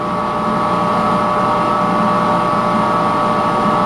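A metal lathe turns 1018 steel with a high-speed steel tool, a steady loud continuous drone with a fixed tonal whine throughout.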